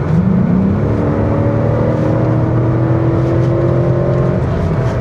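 The V8 engine of a 2009 Cadillac DTS bought cheaply at auction revs up and holds at a loud, steady high-pitched whine for several seconds, close to the mic with no talking.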